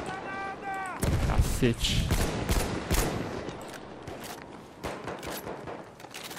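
Rifle fire in Battlefield 1, loud rapid bursts of close gunshots with sharp cracks over several seconds, mixed with a brief spoken exclamation.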